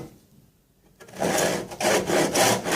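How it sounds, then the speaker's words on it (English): A tenon saw cuts through wood held steady in a jig, starting after a quiet second with loud, rhythmic rasping strokes that repeat in a steady back-and-forth pattern, close and clear. "this should help us to saw very straight and at the right position"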